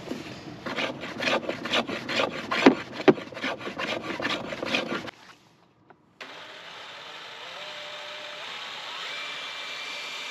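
A chisel carves the edges of a wooden wand by hand, rhythmic scraping strokes with a few sharp knocks for about five seconds, then a short silence and a quiet steady hum.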